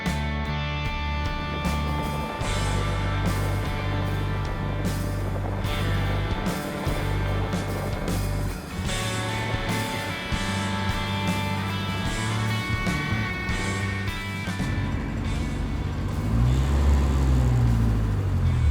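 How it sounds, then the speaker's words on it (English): A 1970s-era Ford Pinto drives along an old road, its engine a steady, loud, continuous drone with road and wind noise throughout, rising slightly near the end, with no speech. "So let's get back up into the Pinto and take it down the road."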